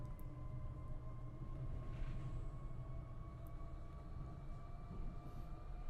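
Train departing Hamilton platform in Train Sim World 6 on the Northeast Corridor, a steady low rumble with a sustained electric whine and a faint high squeal as it pulls away, heard from the platform.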